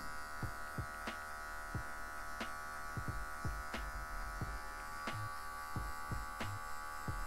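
An electric hair clipper, set to a high zero guard, buzzes steadily close by while cutting afro hair for a fade, with repeated short snips and clicks as the blade passes.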